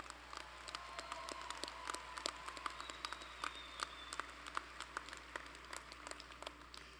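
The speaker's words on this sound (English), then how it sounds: "Let's thank them for their efforts with a round of well-deserved applause." Applause at a College of Art and Design spring commencement ceremony, a faint, distant scatter of claps from a large crowd that continues steadily throughout.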